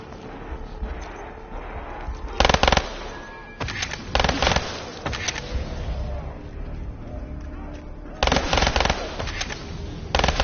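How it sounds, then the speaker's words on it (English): Guns fire in the video game Black Ops 3, with several sharp, loud bursts of automatic fire separated by quieter stretches of background game noise. "I'll just fire off a few rounds."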